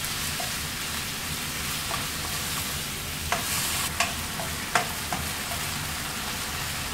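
White sauce pasta is stirred in a pan, a soft steady bubbling hiss broken by a few light spoon knocks in the middle.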